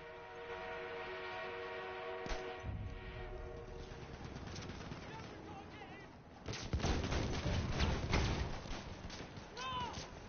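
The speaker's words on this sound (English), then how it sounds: "An enemy armored train has arrived." An enemy armored train arriving in Battlefield 1, with a sustained horn-like tonal blare giving way to heavy rumbling and bursts of gunfire and explosions amid battle noise, and a voice speaking partway through.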